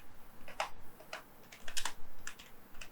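Fingers type on a computer keyboard in quick, uneven bursts of close, crisp key clicks, heard alone without talk.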